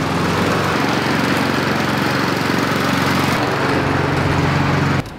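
A Honda lawn mower engine runs steadily at a constant high-pitched drone, loud and close, before cutting off abruptly near the end.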